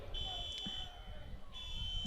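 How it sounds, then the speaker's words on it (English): A car alarm sounds somewhere at an outdoor football game, a steady high electronic tone sounding in repeating bursts, moderately distant over crowd murmur. "Somebody's car alarm is going off."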